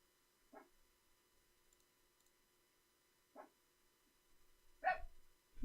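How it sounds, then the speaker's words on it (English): A dog on a balcony barks a few times at a distance, single sharp barks spaced apart over quiet background. "He's just sitting on the balcony barking."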